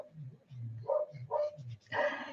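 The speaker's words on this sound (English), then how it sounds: "she's barking at the other dog, or Alfie, because she wants to sit down" A pet dog barks in a series of three or four close, sharp barks at another dog indoors, each separated by short pauses, with no talking.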